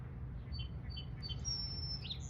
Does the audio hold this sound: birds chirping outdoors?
yes